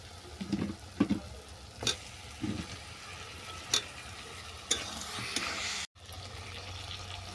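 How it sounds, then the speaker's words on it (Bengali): Chicken pieces being fried and stirred in a pan during a curry preparation, with a low sizzle broken by several sharp scraping knocks of a utensil and a brief cutout near the end. "আরও 2 মিনিট কষিয়ে নেওয়ার পর আমি চিকেনটাকে তুলে দিচ্ছি।"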